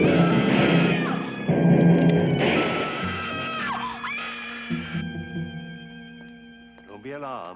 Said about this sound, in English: The woman who just screamed is perfectly quiet now